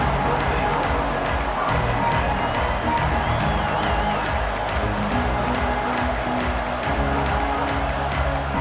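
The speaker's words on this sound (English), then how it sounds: "This crowd bringing the energy and noise early." Stadium crowd roars and cheers continuously at a college football game in EA Sports College Football 26, a loud sustained wall of noise with play-by-play commentary talking over it.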